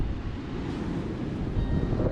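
Steady gusting wind roars and buffets the microphone at a beach campsite, with a low rumble of surf beneath it, continuous throughout.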